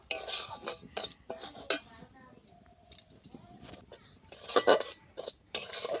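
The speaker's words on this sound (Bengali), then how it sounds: "সুজিটা আবারও ভালো করে ভেজে নেব।" Semolina being fried and stirred in a pan for a sweet, with sharp clanks and scrapes of a metal spoon against the pan coming in bursts between quieter stretches, while someone speaks.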